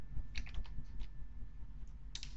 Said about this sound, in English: I think we can try and type